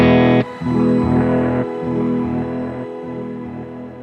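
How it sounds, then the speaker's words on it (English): Electric guitar through a Line 6 Helix Octo shimmer reverb: a loud strummed chord rings out, cut briefly, then repeated chords swell into a washy, sustained bed with high octave shimmer layered above. "Octo is Line 6's version of shimmer."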